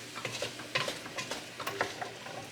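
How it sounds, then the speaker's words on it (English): Onions with garlic, cayenne and spices sauté in a pot while a spoon stirs them, giving soft, close scraping and clicking strokes over a quiet, steady sizzle, with no talking. "The onions are starting to sweat their way through."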